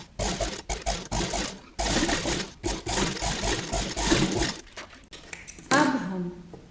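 A sewing machine stitches along the edge of kurti fabric in repeated close bursts of rapid mechanical whirring, starting and stopping every second or so.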